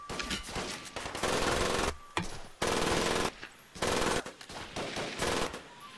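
Heavy machine gun fire in the Guadalcanal campaign of the shooter game Medal of Honor: Pacific Assault: several loud, close sustained bursts of rapid automatic fire separated by brief pauses.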